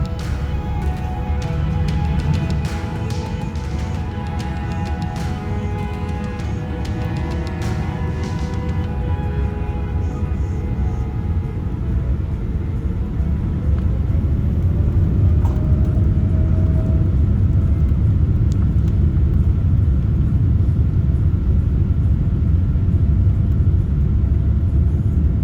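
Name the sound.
airliner taking off from Stockholm runway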